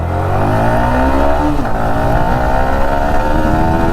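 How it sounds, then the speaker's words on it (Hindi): A Yamaha R15 V4 sport motorcycle engine revs and accelerates steadily above 7000 rpm, its rising whine continuous and fairly loud throughout, with no voices. "देखो यहाँ से एक बाइक ठीक जा रही है, 7000 प्लस पे एकदम ठीक जाती है"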